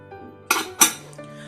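Two sharp metallic clanks of a pressure cooker lid being set and closed, close by, in an otherwise quiet kitchen.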